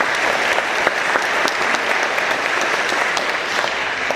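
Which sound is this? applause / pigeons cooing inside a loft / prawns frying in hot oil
applause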